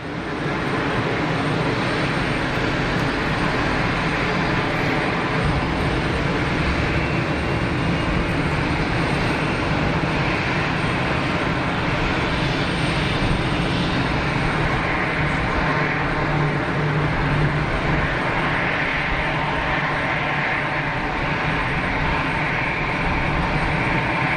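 Swiss airliner powering up and rolling for takeoff at Geneva Airport, heard as a loud, steady, broadband jet roar that continues throughout without a break.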